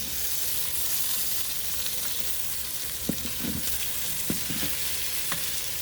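Sausage meatballs sizzle steadily in a hot pan, a dense continuous frying hiss with a few soft knocks and stirring clacks near the middle and end, no voices.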